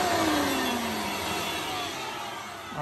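A vacuum cleaner hums steadily inside the door panel of a third-generation Toyota Tacoma. The broadband whir runs unbroken for a few seconds, fairly loud and close, with no talking.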